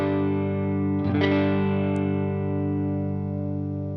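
An electric guitar played through a Protein overdrive pedal on its blue, blues-breaker side rings out as a thick, sustained chord with a single fresh strum midway, loud and alone with no talk over it.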